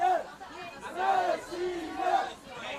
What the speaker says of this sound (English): You can now hear the Russian Open players cheering on their female compatriots